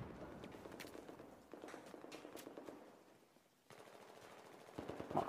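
Automatic gunfire in Battlefield 4 on the Flood Zone map comes in bursts of rapid shots, with brief pauses between volleys and a steady game ambience underneath.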